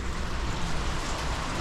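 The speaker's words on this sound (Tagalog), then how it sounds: "Ang lakas ng ulan, di na po tayo nakapag-video." Heavy rain pours steadily near a house, a dense, continuous wash of noise with no pauses and no voices.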